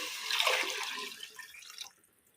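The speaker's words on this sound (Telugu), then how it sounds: "నెక్స్ట్ వాటర్ వేసేసుకుందాము." Water poured into a biryani pot of fried masala, a splashing, gurgling pour that is strongest early and then tapers into faint drips near the end.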